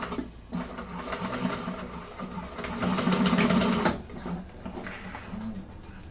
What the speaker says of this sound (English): Make sure you're only sewing through the 2 layers.